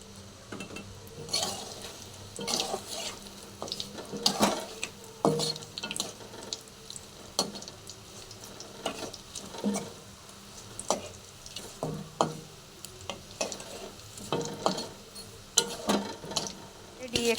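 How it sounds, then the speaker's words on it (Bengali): Soybean chops coated in egg and biscuit crumbs fry quietly in a pan, with a soft sizzle and a steady series of sharp utensil clinks and scrapes, close by. "এইভাবে ডিমে ডিপ করে বিস্কুট গুঁড়ো মাখিয়ে চপগুলো আমি ভেজে নিচ্ছি"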